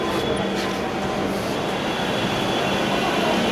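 Steady, loud rumble of a moving Dhaka metro rail train heard from inside an air-conditioned carriage, with broadband wheel and motor noise continuing evenly for a few seconds and no speech.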